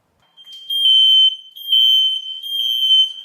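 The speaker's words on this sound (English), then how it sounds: "The fire alarm's going off." A smoke-detector fire alarm, set off by a hot 1K studio light placed too close, shrills loudly and close in repeated piercing bursts of a single high tone with short gaps between them.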